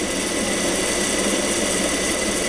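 Electric motor driven by a frequency inverter at 50 Hz, giving a steady, loud buzzing hum with a constant high-pitched electrical whine throughout, no voices.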